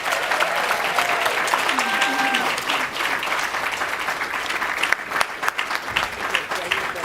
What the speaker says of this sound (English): Let's give a round of applause for Mark H.